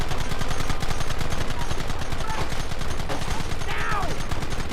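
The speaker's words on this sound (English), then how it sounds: "Fingers on triggers and just aim and shoot. Targets on the horizon. Fire at will!" Dense gunfire rattles in Red Dead Redemption, with rapid repeated shots forming a continuous volley and faint voices mixed in the background.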